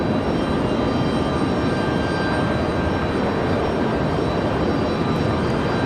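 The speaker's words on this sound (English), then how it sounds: "Delta 1275, that departure there off to Tampa at A319." A Delta Airbus A319 departs Raleigh-Durham International for Tampa, a steady, loud wash of jet engine roar with a thin constant whine, unchanging throughout and free of speech.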